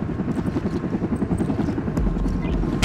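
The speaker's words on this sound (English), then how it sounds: "chopper incoming." A helicopter approaches in Army of Two: The Devil's Cartel, its rotor thumping loud and steady with a dense low rumble that swells slightly toward the end.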